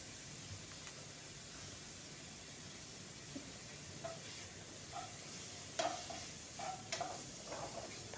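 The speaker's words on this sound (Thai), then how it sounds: "เรารอผัดหมูให้สุกก่อนนะตอนนี้ ยังผัดไปเรื่อยๆ ค่ะทุกคน" Pork stir-frying in a pan with garlic and onion: a faint, even sizzle with scattered light scrapes and clinks of the spatula, growing busier later, with no speech.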